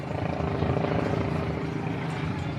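A helicopter hovers directly overhead near mile 24 of the New York City Marathon, its rotor producing a loud, steady, throbbing drone with no pause.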